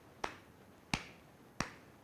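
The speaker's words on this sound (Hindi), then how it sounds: "ताली लगाते हैं" Three sharp, evenly spaced hand claps keep the beat in a Kathak dance class, crisp and close with a short room decay after each.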